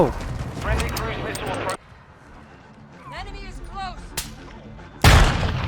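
Gunfire in Call of Duty MWII Warzone 2.0, a Longshot-only sniper match with pistols: loud bursts of shots open the clip and return sharply at the end, with a quieter stretch of softer in-game sounds between and a voice talking over parts of it.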